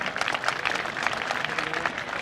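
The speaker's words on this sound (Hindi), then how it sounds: "जोरदार तालियों।" Applause from an audience at a Republic Day school function at Sihora high school, a short burst of steady, dense clapping throughout, moderately loud and without talk.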